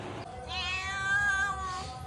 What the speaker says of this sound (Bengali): ম্যাও কি করে ডাকছে গা